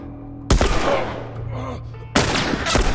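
Gunfire in The Last of Us: two sharp, loud shots about a second and a half apart, each followed by a ringing decay over low background game ambience.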